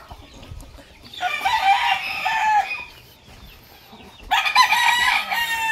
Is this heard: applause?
no